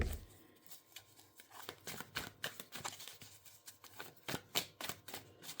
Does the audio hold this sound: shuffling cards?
yes